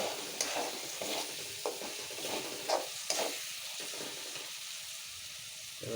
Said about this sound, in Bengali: মশলা কিছুটা কষানো হচ্ছে